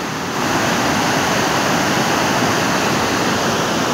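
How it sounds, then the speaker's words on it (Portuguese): A waterfall at km 13 after flooding, running with a strong current, makes a steady, loud, broadband roar of rushing water that holds constant throughout with no voices. "Como está então hoje o 13 aqui da cachoeira, né? Bem correntoso."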